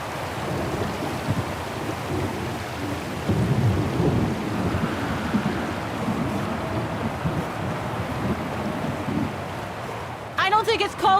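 Thunderstorm in the video game Syberia: The World Before: steady heavy rain and rolling thunder swelling around the middle, with a brief burst of other sound near the end.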